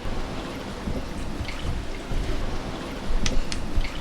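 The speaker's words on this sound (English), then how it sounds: "you can feel the vibration when the waves smash into the hull" Waves surging against the hull of a sunken superyacht, a continuous low rumbling wash of water with a few sharper splashes and knocks near the end, close and fairly loud.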